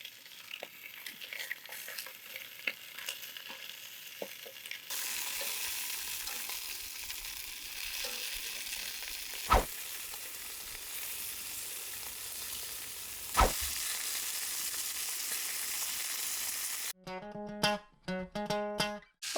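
Sausages browning in a Dutch oven on a camp stove, a steady close sizzle and fry with a couple of sharp clanks of stirring, ending in a burst of clattering knocks.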